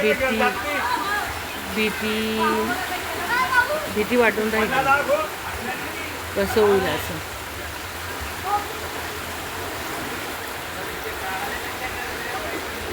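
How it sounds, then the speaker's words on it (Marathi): Steady rushing floodwater runs throughout, a broad continuous wash close by, reaching a house gate, with a person talking anxiously over it. "बघा माझ्या गेटपर्यंत पाणी होऊन गेलेलं आहे"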